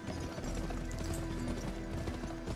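Horses gallop in a race through a Wild West setting in the video game GUN, with dense, rapid hoofbeats carrying steadily throughout against a continuous game soundscape.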